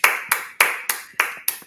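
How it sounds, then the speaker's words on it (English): Crisp claps at an International Humanity Summit, six sharp, evenly spaced beats from close by in a quick, steady rhythm, with no talk. "Let all of us give us a round of applause and pat on the back"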